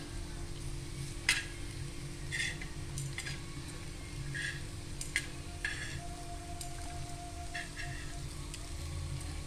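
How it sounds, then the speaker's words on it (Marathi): Potato slices for crispy kaap sizzle steadily in a pan as they fry, a continuous hiss over a low hum with a few faint clicks and scrapes, no voices. "आता त्या साईडून आपण त्यांना फ्राय करून घेऊ"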